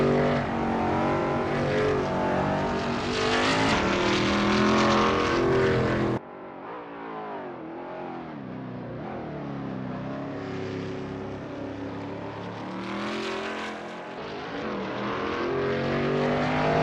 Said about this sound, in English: Adam is getting to grips with the ASRL Veloce GTS-8 in this practice session